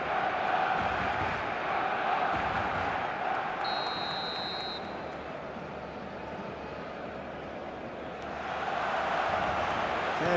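Stadium crowd noise in the eFootball video game on match day, a loud, continuous roar of many voices with a brief high whistle-like tone partway through, swelling again toward the end.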